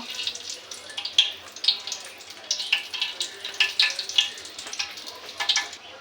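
Two dried red chillies frying in hot oil in a pan while a Bengali vegetable stir-fry is being made, giving soft steady sizzling with a string of sharper pops and crackles spaced through it.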